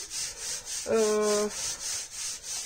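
Paper being rubbed flat by hand onto a polystyrene printing plate gives a steady soft swishing friction, with one brief louder stroke partway through, close and alone with no talk.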